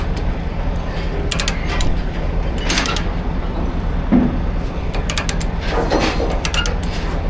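Chain binder being ratcheted tight to secure a CAT 930 wheel loader on an RGN trailer, repeated metallic clicks and clanks over a loud steady low rumble outdoors.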